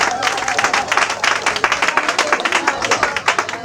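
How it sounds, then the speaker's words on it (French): Dense, steady applause and clapping from a crowd at a customary (traditional) wedding ceremony celebrating thirty years of marriage, continuous and fairly loud throughout, with some voices mixed in. "On applaudit très fort."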